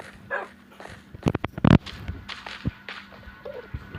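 A Minecraft dog yips and whimpers in short bursts over a run of blocky footstep thuds, close and fairly loud, with a sharp clatter midway.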